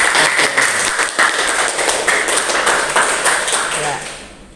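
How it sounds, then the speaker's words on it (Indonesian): A classroom audience claps for a student group about to present, a moderately loud, dense run of hand claps with a room echo that fades out by the end. "Silakan beri tepuk tangan untuk kelompok wacana."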